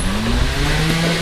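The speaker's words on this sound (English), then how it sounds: "That bike sounds so powerful." A trials motorcycle engine revs hard at a British trials championship round, a brief loud buzzing rise in pitch, close and dominant with no talking.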